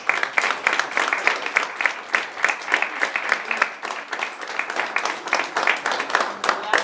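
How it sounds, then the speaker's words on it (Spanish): Audience at a poetry evening claps in a lively, uneven rhythm of distinct hand claps, moderately close, with some murmuring voices mixed in. "Un aplauso para ellos."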